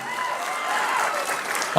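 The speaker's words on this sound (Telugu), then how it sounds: "ఈ ముగ్గురు కూడా గట్టిగా చప్పట్లు కొట్టి మీరందరూ వారిని అభినందించాలి" An audience applauding at a public event honouring disabled people, a continuous dense patter of many hands, moderately loud and steady, with a brief louder burst at the end.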